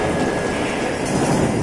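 A moving train rumbles in Call of Juarez: Gunslinger, a dense continuous roar of rolling cars and wheels that stays loud and steady throughout.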